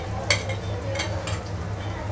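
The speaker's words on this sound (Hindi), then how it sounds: "और इसको मिक्स कर" Grated boiled egg is stirred into garh masala in a pan: soft scraping and a few brief utensil clinks over a low steady cooking hum, close and fairly quiet, with no talk.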